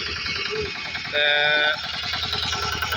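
A wheat harvesting machine's engine starts and runs with a loud, rough, rhythmic chugging throughout, its pitch briefly rising into a strained whine midway before settling back into a steady idle.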